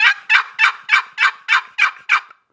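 Eight evenly spaced raspy yelps from a turkey mouth call imitating a hen with a hoarse, boxy voice, loud and close with brief gaps between notes and no talking.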